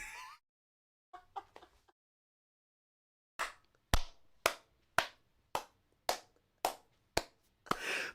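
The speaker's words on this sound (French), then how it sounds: "Puis ça applaudit." Slow, evenly spaced hand claps ring out close by, about ten sharp single smacks in a steady rhythm after a few scattered taps. They sound more like one or two people than a full audience.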